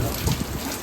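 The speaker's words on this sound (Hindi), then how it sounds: "लेकिन बारिश अभी भी उतनी ही ज़्यादा हो रही है।" Heavy rain pours down at Arambol beach in Goa, a steady, dense broadband hiss of drops with a low rumble underneath, continuous and close throughout.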